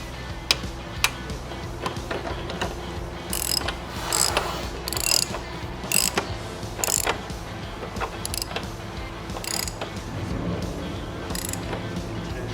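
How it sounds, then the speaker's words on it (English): A ratchet wrench tightens the rear axle of a Harley-Davidson Low Rider ST motorcycle in a workshop, with rapid clicking bursts in short repeated runs and a few sharper knocks between them. "And then we're gonna tighten the axle."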